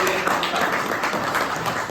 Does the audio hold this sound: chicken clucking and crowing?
no